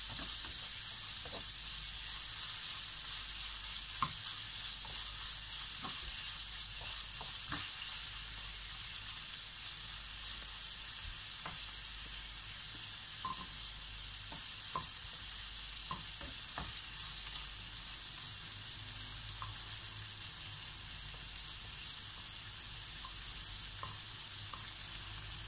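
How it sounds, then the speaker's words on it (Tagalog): Shrimp sautéing in a pan, a steady bright sizzle that runs continuously, with scattered light clicks and scrapes of stirring on top. "gigisahin lamang po natin ito ng 1 to 2 minutes hanggang sa mag-iba po ang kulay ng ating hipon"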